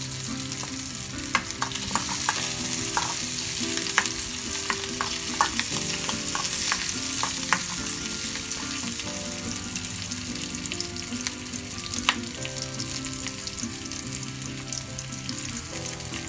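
Mint leaves sautéing in a pan for pudina chutney produce a continuous loud sizzle and fry, threaded with frequent scraping and clinking of a spoon stirring, alongside a steady tonal hum, no voices.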